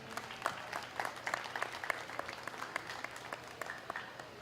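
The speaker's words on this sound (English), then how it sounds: "Let's give them a big round of applause" A county fair audience at a 4-H/FFA beef showmanship class claps for the young exhibitors with a steady, distant-sounding round of applause and crisp individual claps throughout, fairly quiet overall.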